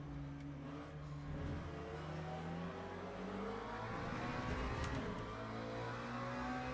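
In the Le Mans Ultimate racing game, a race car engine revs and whines continuously, rising and falling in pitch through gear changes as it drives in steady close-up, with no voices.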